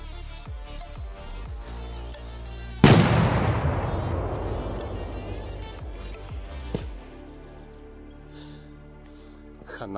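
A large Korsar-type firecracker blasts once under a metal pot, a sudden sharp bang that booms and decays with a rumbling tail. People talk before and after.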